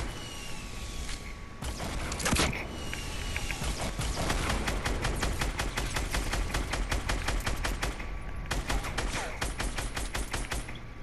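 In a Fortnite match, dense rapid gunfire shoots down a building roof, with continuous loud bursts and fast repeated shots throughout and no clear talk.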